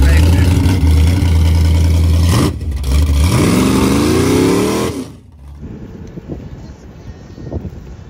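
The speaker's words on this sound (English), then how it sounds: "Give us a raw burnout real quick." A car with a 455 engine stroked to 492 does a burnout, its loud, heavy engine roaring steadily and then dipping and revving up sharply before cutting off, with faint talk and background noise afterward.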